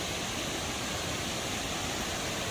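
A waterfall roars as a steady, dense broadband rush, constant and fairly distant, with no voices over it.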